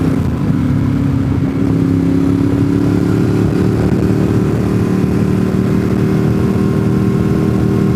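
Honda Grom motorcycles ride past on a mountain road, producing a loud, continuous engine drone that hums steadily throughout with no voices.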